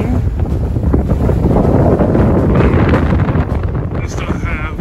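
Strong 18-knot wind roars steadily across the microphone aboard a sailboat in the middle of San Pablo Bay, loud and constant with water wash underneath and a voice faintly mixed in.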